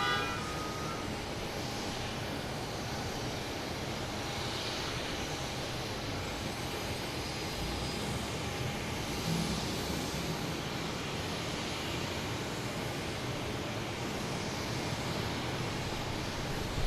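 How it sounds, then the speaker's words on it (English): A Lufthansa Boeing 747 takes off from runway 22 right at Boston Logan, producing a steady, moderately faint broadband engine roar that holds for many seconds without other sounds. "Lufthansa 747 taking off on 22 right, which is the close one to us"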